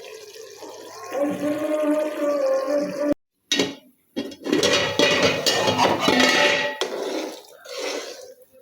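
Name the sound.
water poured into pot for matar pulao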